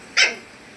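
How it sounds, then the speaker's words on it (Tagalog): A single short dog bark, fairly close and clear, followed by quiet background, heard during a home solar charge controller and inverter setup. "May aso pa."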